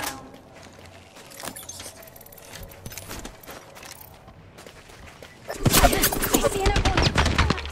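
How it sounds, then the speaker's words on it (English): Gunfire in the shooter video game Apex Legends: scattered single shots and rattling bursts, then a loud sustained volley of rapid automatic fire near the end. "They're shooting at me."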